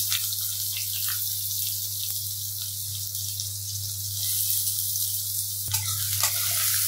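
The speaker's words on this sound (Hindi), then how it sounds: "प्याज को अच्छे से फ्राई कर लूंगी मैं।" Chopped onions fry in mustard oil in a kadhai with a loud, continuous hissing sizzle, a low steady hum beneath it and an occasional clink of stirring.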